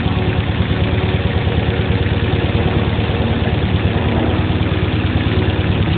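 A Toyota EFI car engine idles steadily at a constant, even rumble, close and continuous with no talk over it.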